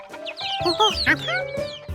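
Hens clucking inside a hen house on a farm, a few close, overlapping clucks and short calls heard alone.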